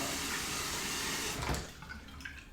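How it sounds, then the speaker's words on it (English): Hot water runs from a tap into a shaving bowl holding hard soap, a steady splashing rush that stops abruptly midway, leaving faint drips and small clatters. "So I'm going to run it under the hot water."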